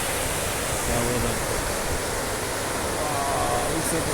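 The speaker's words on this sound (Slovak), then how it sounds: "Normálne húkotek, húči tá voda." A mountain stream or waterfall in the High Tatras near Solisko roars in a dense, constant rush that fills the whole scene, loud and close, with a voice speaking faintly beneath it.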